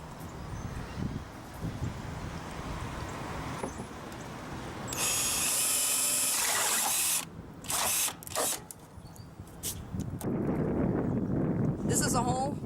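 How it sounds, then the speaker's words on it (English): A power drill bores a hole through the plastic wall of a rain barrel, giving a loud, harsh whirring burst, a few short stop-start pulses, then a second grinding run, with voices talking in the background. "I'm going to drill the hole."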